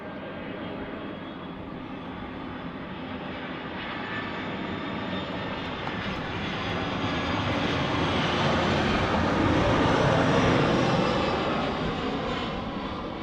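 A passenger plane lands at Manchester Airport, its engine roar building steadily into a loud, broad rumble that peaks near the end of its approach, with no voices.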